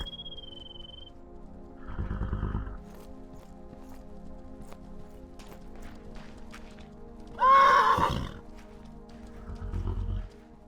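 A horse in a video game whinnies sharply once amid quiet background tones, with a couple of soft thuds like hooves before and after.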